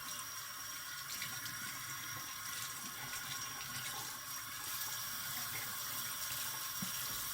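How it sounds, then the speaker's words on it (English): A straight razor blade is rinsed under a running bathroom sink tap: a steady, close wash of water flows continuously with faint shifting splashes and no talk. "I know it's frowned upon to rinse the blade off in the sink"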